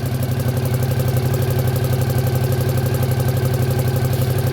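A Honda CX500 motorcycle engine idles steadily up close after carburetor jet work, a loud, even, throbbing rumble with a regular pulsing beat.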